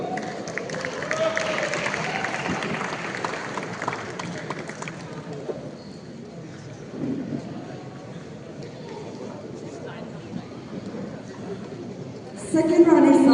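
Crowd at an esports championship prize ceremony cheering and clapping for winners called up on stage, a steady wash of applause and voices that eases slightly midway, with a brief louder burst at the end.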